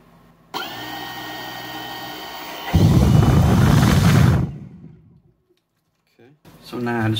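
An EGO 650CFM leaf blower motor runs on a retrofit cheap BLDC controller, spinning up to a steady whir, then surging into a loud rushing roar for a couple of seconds before winding down to silence, followed by brief speech.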